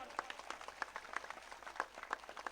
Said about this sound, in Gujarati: પહેલા એમના માટે તાળીઓ પાડો.